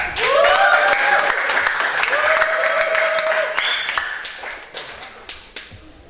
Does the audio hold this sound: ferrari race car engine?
no